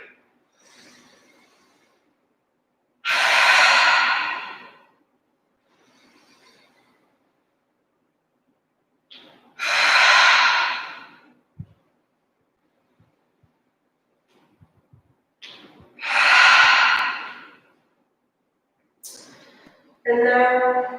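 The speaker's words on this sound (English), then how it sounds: "deep breaths in through the nose, and just let it out through the mouth" Deep, full breaths drawn in through the nose and let out through the mouth during a morning yoga session, four broad breathy exhales recurring every few seconds with quiet pauses between.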